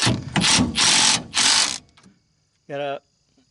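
Ratchet clicks in quick bursts while tightening leaf spring bolts on a 2006 Ford Ranger 3.0, four close loud bursts followed by a short pause and a brief tonal squeak.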